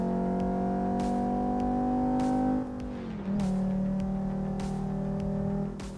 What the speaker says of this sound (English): this sounds like the good old 5-cylinder that it is, turbo